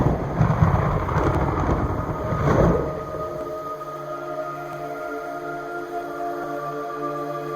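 Heavy rumbling rain with a thunder-like roll in the video game Metal Gear Solid 3 fades after a few seconds, leaving a quieter steady ambience with faint sustained tones.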